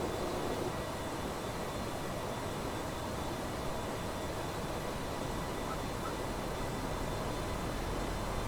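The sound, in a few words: aircraft engine in video game Microsoft Flight Simulator X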